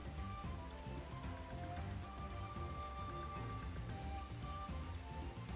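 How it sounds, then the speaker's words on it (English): Steady rain falls in Final Fantasy XIV: Dawntrail, a dense continuous patter with faint game music tones running beneath it throughout. "that's why it's raining. It's because he shows up in the rain."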